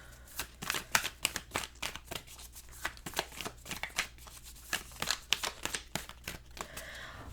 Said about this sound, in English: I'm gonna keep shuffling because there was a good chunk of cards that kind of flew out.